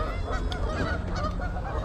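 Ducks by a river give loud, honking calls over a steady low background rumble, the calls continuous and close.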